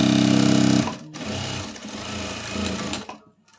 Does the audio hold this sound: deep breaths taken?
no